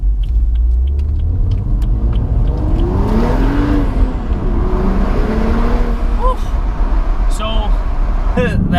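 A BMW F30 335i in Sport Plus mode rumbles loudly, its engine note rising and falling through revs as it accelerates, with a deep steady drone throughout and a voice talking over it.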